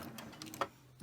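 A sewing machine runs briefly at close range, stitching back and forth over soft minky fabric to lock the seam, giving a short run of quick, light mechanical ticks and whirs.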